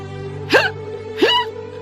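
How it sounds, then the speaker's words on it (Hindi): Two sharp hiccups, one about a second after the other, jump out loud and close against a low steady background hum. "और बहुत तेज हिचकी आ रही है।"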